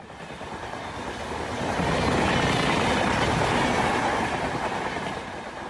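A train runs along the rails with a continuous rumble and rattle, swelling louder in the middle as it passes close, then easing slightly.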